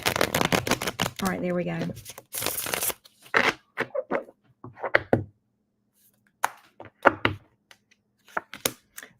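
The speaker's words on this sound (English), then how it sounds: "I need one more shuffle." Tarot cards being shuffled by hand: brisk riffling bursts, then scattered taps and slaps of cards, close and clear, with a person speaking briefly in between.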